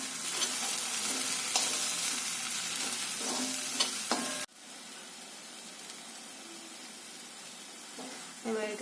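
Spice masala roasts in hot oil while being stirred, a bright continuous sizzle with scraping spoon strokes that suddenly drops to a quieter, softer frying hiss halfway through, with occasional stirring clicks.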